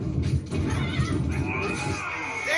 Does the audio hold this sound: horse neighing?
yes